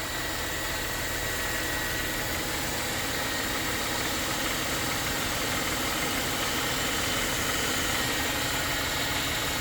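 A Mercedes-Benz E350 sedan, bought at auction, idles under the hood with a constant, even engine hum. Its steady low rumble and vibration run throughout without any revving.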